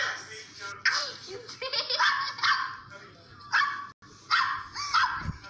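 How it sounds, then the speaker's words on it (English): A dog barks and yips in short bursts close by, the barks mixed in among people talking over them throughout. "And a dog barking."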